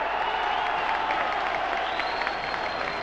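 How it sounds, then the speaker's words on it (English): Boxing crowd at the close of an 8-round bout between Jim Watt and Angus McMillan in 1973, a steady dense roar of applause and cheering from a large audience, continuous and fairly far, a commentator's voice faintly over it. "Great cheers from the crowd, and Watt is the winner."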